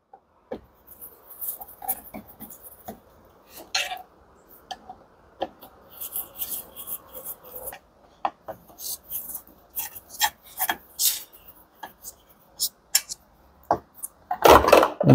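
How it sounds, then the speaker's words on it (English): Screws being removed from a Hitachi washing machine: scattered close-up clicks, scrapes and short rasps with quiet gaps between them, and a louder scrape at the very end. "Now we will remove these screws here."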